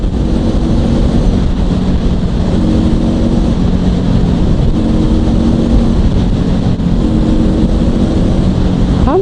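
A Honda CL500 motorcycle engine drones steadily at highway speed, the throttle eased open and closed, its low engine tone heard under heavy, constant wind rush on the microphone.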